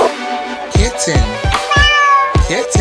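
A cat meows in a series of short, loud, rising and falling cries, several in quick succession and close up, with no talking.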